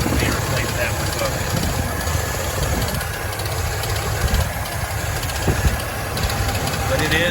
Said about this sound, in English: One of the belt air pump rattling right there, so you hear the air pump.